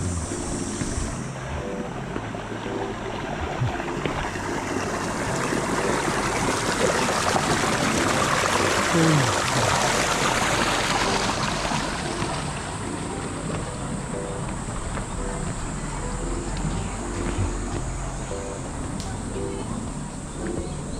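A mountain stream in Korea's Ssanggok Valley flows with a steady, broad rushing of water that stays loud and close for the whole stretch.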